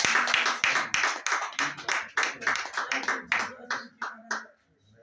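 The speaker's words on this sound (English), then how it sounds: "Let us clap." Congregation clapping at an evening church service, a run of loud, irregular hand claps from a gathered crowd that thins out and stops near the end.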